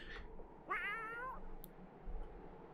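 A cat meows once, a clear rising and falling call over quiet in-game ambience, in the video game Just Deserts.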